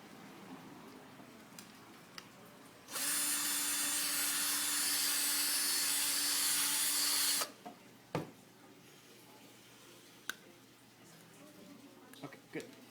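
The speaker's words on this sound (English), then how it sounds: "we need one more hole for the mouthpiece that'll go in this one" A power drill bores a hole in a glovaphone part to hold the mouthpiece, a loud steady whine lasting about four and a half seconds, followed by a few light clicks and knocks in a quiet room.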